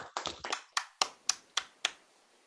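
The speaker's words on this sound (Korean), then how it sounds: "힘찬 감사의 박수로 답례를 해주시면" At a Korean-American business friendship forum event, after a lecture, a quick flurry of hand claps is followed by several evenly spaced single claps. They sound faint and sparse rather than like a full crowd.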